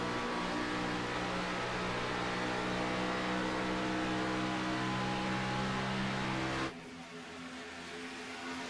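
Xfinity Series race cars at Las Vegas in a racing simulation, heard as a steady droning engine roar with a constant pitch that suddenly drops in level near the end, alone with no talk.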